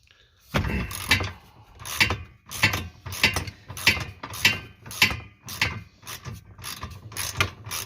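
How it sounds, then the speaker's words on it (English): A 5/8 socket wrench ratcheting on the latch bolts of a 2021 Can-Am Commander, a dozen loud rhythmic bursts of rapid clicking in quick succession, close up with no talk. "Next, we'll be removing the stock latches. You need a 5/8 socket and a 5/8 wrench."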